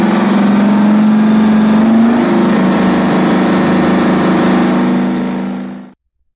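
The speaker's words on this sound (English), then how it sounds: "the 20V149 produced a deep, rumbling roar punctuated by the sharp whistle of turbocharger surge and the mechanical whine of the supercharger" A Detroit Diesel 20V149 diesel engine roars loud and close, a deep steady rumble with a brief shift in pitch partway through, then cuts off abruptly near the end.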